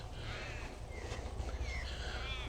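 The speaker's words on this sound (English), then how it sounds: "Lots of crows flying around at the moment." Crows cawing outdoors in autumn, several hoarse calls scattered over a faint background hum, distant and fairly quiet.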